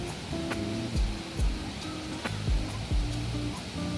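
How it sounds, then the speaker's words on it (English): Fish Dunn Falls in Portland, Jamaica pours in a steady broadband roar heard up close, a continuous rushing wash of water with occasional low thumps and faint tonal sounds mixed into it. "It's almost up close and personal with the waterfall."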